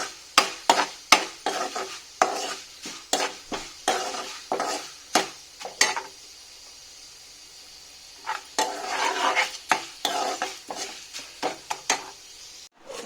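Vegetables frying in a pan under repeated stirring, with quick bursts of spatula scrapes and clatter against the pan over a soft sizzle, a pause midway, then another run of stirring strokes.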